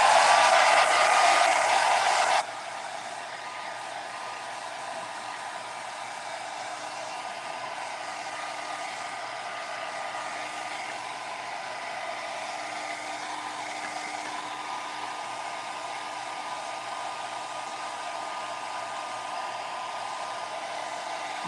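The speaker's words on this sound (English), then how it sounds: "So let's hit it with the hairdryer once again." A hair dryer blows continuously at close range, starting louder on a higher setting, then dropping to a steady, lower whooshing hum.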